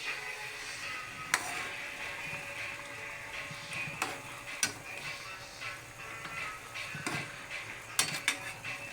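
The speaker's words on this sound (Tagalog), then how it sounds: "Haluin natin." A utensil scrapes and clinks against a cooking pot in scattered taps while food simmers with a faint sizzle underneath; no talking.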